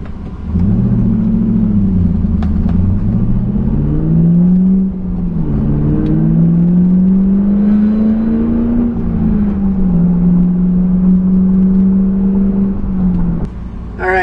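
Rear-wheel-drive car accelerating hard on a road, the engine droning loud and close as its pitch climbs and drops through gear changes, with no talking.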